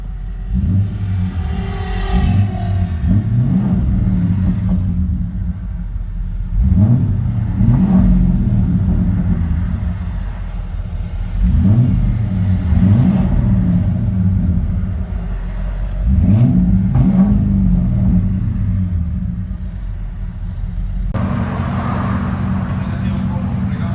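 A 5.4L V8 engine in a 2000 Ford Excursion revs up and settles several times through a deep, rumbling Flowmaster Super 10 dual exhaust with high-flow cat, heard from inside, with a misfiring lope at idle.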